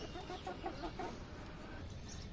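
Chickens eat feed and insects and cluck softly in a short series of low, close calls over a constant background hum, with no talking.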